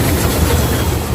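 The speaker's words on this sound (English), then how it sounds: "No, it's their 35 City Circle Loop tram, which they still use daily" A Melbourne City Circle Loop tram, route 35, rolls past with a steady, loud low rumble and wheel noise filling the short moment without a break.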